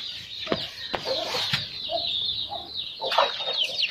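Farmyard chickens cluck in short bursts with some wing flapping, a few sharp knocks and pecking sounds, moderately close and fairly quiet.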